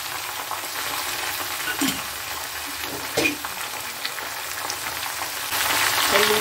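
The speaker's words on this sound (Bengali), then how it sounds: "আলু ভাজা হয়ে গেছে, আর ঝিঙেটা দেব।" Ridge gourd frying in hot oil with already fried potatoes, a steady close sizzle with occasional stirring scrapes that grows louder near the end.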